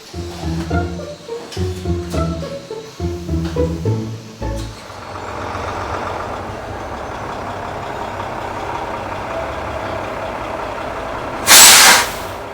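A truck arriving from the Blind River refinery at the Port Hope conversion facility on Lake Ontario rumbles and idles steadily, then releases a loud burst of air-brake hiss near the end.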